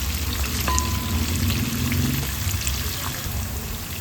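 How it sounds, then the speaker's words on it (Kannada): Onions frying in a pan as the base for a brinjal fry give off a steady, close sizzle with a light crackle that holds evenly through the whole stretch, and no one speaks over it. "ಈರುಳ್ಳಿ ಈ ಹದದಲ್ಲಿ ಫ್ರೈ ಆಗುವಾಗ"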